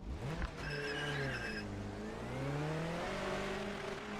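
A race car in the video game Project Motor Racing slides with its tires skidding. A sustained squeal bends up and down over a steady engine drone, loud and continuous for the whole stretch.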